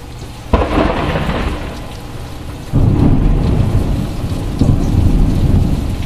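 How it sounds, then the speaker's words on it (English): Loud rumbling thunder from intense lightning strikes in a supercell thunderstorm with a shelf cloud, rolling on continuously with two sharp new crashes, over steady rain and gusting wind. "these are intense lightning strikes"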